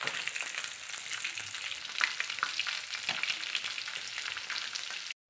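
Fish frying in a pan for sarsiadong isda, a steady close hiss of hot oil with scattered pops and crackles, continuous until it cuts off abruptly at the end.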